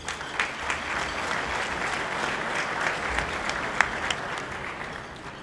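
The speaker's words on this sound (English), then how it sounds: "give yourself a round of applause" A luncheon crowd at a football touchdown club claps in a steady, fairly loud round of applause, with a few sharper individual claps standing out before it tapers off.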